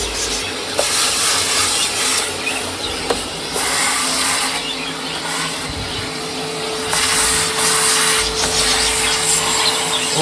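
A new vacuum cleaner runs in a bird aviary, a loud steady motor roar with rubbing and scraping bumps as the nozzle moves over the surfaces.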